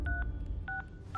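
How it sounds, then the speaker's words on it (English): Telephone keypad dialing: three short, evenly spaced DTMF tone beeps, quiet and clear over a faint background. "Raphael took out his phone. I'm calling the clinic."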